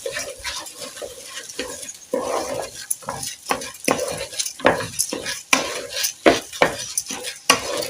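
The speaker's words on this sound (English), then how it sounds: "I will start stirring so that I can mix the tomatoes, the cooking oil, and the rice" A spoon stirring tomatoes, cooking oil and rice in a pot, with repeated scraping strokes in an uneven rhythm over a low sizzle and occasional clicks against the pot, close and fairly loud.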